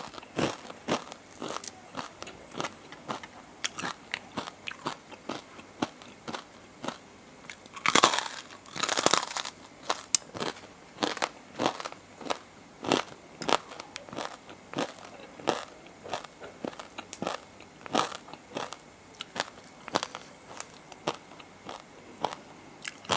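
Crispy pork is eaten with spicy papaya salad up close, giving repeated sharp crunches and bites with chewing in between. One crunch is louder and the rest are fairly soft, with no talking.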